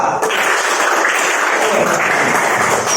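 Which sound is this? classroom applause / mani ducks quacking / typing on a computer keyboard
classroom applause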